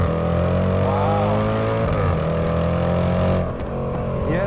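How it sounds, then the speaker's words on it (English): Range Rover Sport SVR accelerating hard along a straight, its engine and exhaust note rising and falling in pitch through gear changes, loud and close, with a brief dip near the end before the engine swells again. "Yes, the exhaust note is unbelievable."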